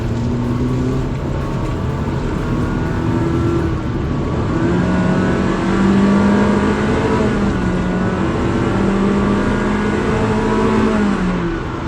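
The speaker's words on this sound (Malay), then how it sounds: "Saya nak try rev maksimum, tengok berapa bunyi dia" A new Honda City's engine revs toward maximum RPM on a slight uphill, giving a loud, steady drone that climbs gradually in pitch and holds near the top, heard from inside the quiet cabin.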